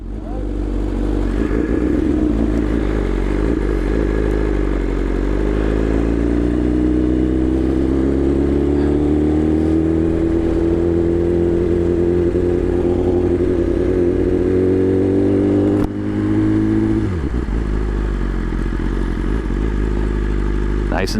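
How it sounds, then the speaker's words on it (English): A BMW S1000RR motorcycle being ridden, its engine note rising smoothly and steadily as it pulls for about fifteen seconds, then dropping sharply before picking up again; loud, close and continuous, with no talk over it. "All right, first time on a BMW S1000RR."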